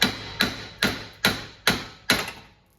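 Six sharp hammer smacks at a steady, roughly half-second rhythm on a rusted rear wheel bearing hub of a 2008-2013 Toyota Highlander, each metallic hit ringing briefly before the next, close and alone with no talk.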